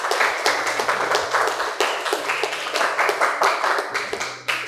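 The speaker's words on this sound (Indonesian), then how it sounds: "Tepuk tangan dulu." Classroom applause for a student group during a chemistry practice lesson, a small group clapping steadily and unevenly close by with no talk over it, the claps thinning out toward the end.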